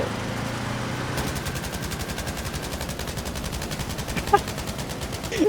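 Rapid automatic gunfire in the World War II shooter Battlefield V, a steady fast rattle of shots running through most of the stretch, loud and sustained with a few heavier bursts near the end.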